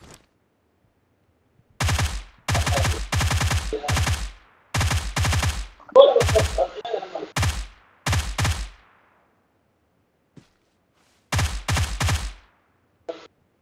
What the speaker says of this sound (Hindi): पहाड़ पे फायरिंग हो रही है।